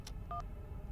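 Touch-tone telephone dialing, a few short clear beeps in quick succession over a low background hum, as a police constable calls a woman from abroad about her handbag.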